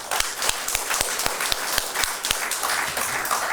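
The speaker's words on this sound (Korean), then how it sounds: "우리 김주호 회장님에게 뜨거운 박수를 보내면서 우리 함께 단합합시다" Audience applause at the founding convention of a Korean interfaith religious coalition for national security, a fairly loud, steady patter of clapping across a hall with a few sharper individual claps standing out.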